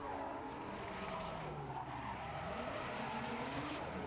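Drift race cars battle in a French drifting championship, tires squealing and skidding in a long, steady roar with engine drone underneath, heard from a distance without commentary.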